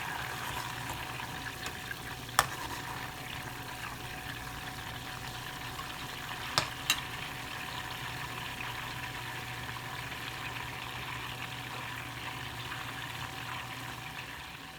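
Butter simmers in a pan while ghee is being made, giving a steady faint bubbling and hissing close by, with a few brief sharp clicks.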